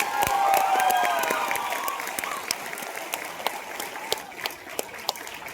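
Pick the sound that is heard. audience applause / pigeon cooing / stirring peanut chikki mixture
audience applause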